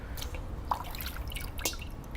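Water drips onto a smartphone display in a few faint, separate taps against quiet background hiss.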